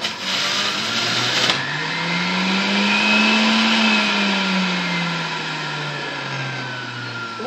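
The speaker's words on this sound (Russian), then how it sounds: "Берем огурчик, выдавливаем с него сок." An electric juicer whirs steadily as a cucumber is pressed through it, a loud continuous motor drone that dips in pitch under load and then climbs back, with a high whine on top.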